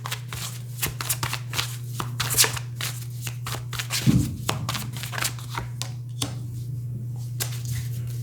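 Tarot deck shuffled by hand in repeated crisp riffles and card flutters, close and clear over a low steady hum, with a brief thud partway through.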